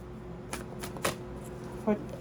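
Tarot cards shuffled in a few quick riffling bursts, close and fairly quiet, with brief soft snaps between pauses.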